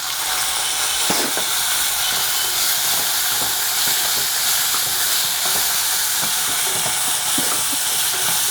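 Steady, dense hiss of curry leaves and mustard seeds sizzling in hot oil, continuous throughout with faint crackles and pops scattered on top.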